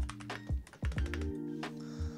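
Typing on a Monsgeek FUN60 Pro Hall Effect keyboard with slightly springy keys: a handful of soft, uneven clacks and thocks, close and fairly quiet, alone over a faint hum.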